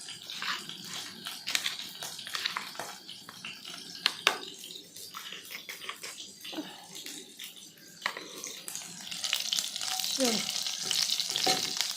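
Panch phoron spices frying in hot oil, a crackling sizzle with scattered sharp pops and clinks of stirring, growing louder and denser toward the end, heard up close.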